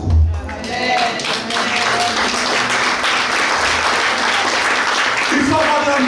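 A church congregation applauds at a pastor's urging, loud sustained clapping filling the hall for several seconds, steady throughout.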